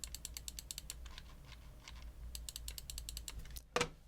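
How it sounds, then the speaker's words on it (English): Rapid series of crisp mouse scroll-wheel clicks on a computer mouse whose wheel click has been softened, coming in quick bursts with short pauses, close and fairly quiet, ending with one louder click. "they made the click softer just on the scroll wheel"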